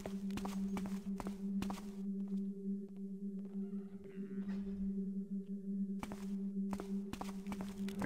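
Footsteps receding in the stealth game Thief, a fan mission, soft regular steps over a steady low ambient hum, fading as they move away.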